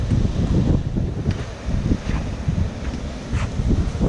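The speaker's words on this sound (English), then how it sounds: "How'd he get me in a 40-mile-an-hour wind?" Strong 40 mph wind gusting outdoors over sand, a loud continuous rumble of buffeting with steady whooshing across the whole stretch and no voices.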